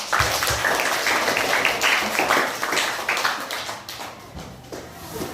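A classroom group claps together for group 5 after a persuasive speech presentation, a dense, steady patter of many hands that fills the whole stretch at moderate loudness with some talk mixed in.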